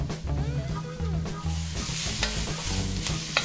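Onions, celery and green pepper sauté in a pan with a steady close sizzle, broken by repeated scraping and stirring strokes.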